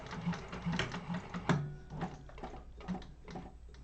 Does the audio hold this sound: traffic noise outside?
no